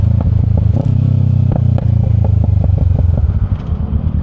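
A Kawasaki Ninja 650 motorcycle fitted with an Akrapovic exhaust idles loud and close, a steady deep burbling rumble with rhythmic pulses and a few sharp pops and clatters throughout.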